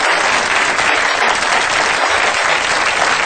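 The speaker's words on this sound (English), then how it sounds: "Now they're trying to bust the applause record here of 2 minutes." A large audience at a tribute event applauds loudly and without a break, a dense, sustained roar of clapping hands.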